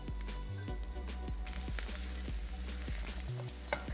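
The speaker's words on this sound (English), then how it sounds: "As the oil starts heating up, I'm going to first add garlic. With that, I'm going to also add onion to it and celery." Garlic, onion and celery fry in hot oil in a pan, a steady crackling sizzle heard up close over a constant tonal backing of music.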